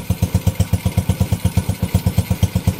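Honda Wave 125 motorcycle engine running just after a one-click start following a top overhaul with a replaced cylinder head, giving a steady, even idle pulse close by with no talk over it.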